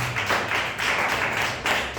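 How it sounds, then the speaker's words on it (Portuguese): A church congregation claps along in praise, a dense, steady patter of many hands filling the room at moderate loudness with no talk over it. "Louva o Senhor com as tuas palmas"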